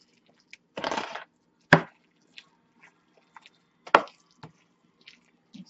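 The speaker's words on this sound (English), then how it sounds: "Let's mix that up real good." Moist cornbread dressing being mixed in a bowl, giving a handful of close, soft wet squelches and dabs spaced irregularly with quiet gaps between them, with no talk.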